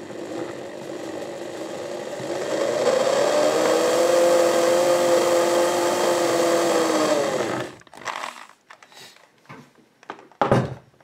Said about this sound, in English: I will see what happens if I drill a hole here